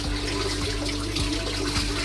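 Liquid pond treatment pours and splashes into an outdoor pond in a steady, close watery wash with faint rhythmic gurgles underneath.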